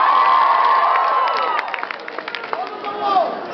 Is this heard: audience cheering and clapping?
yes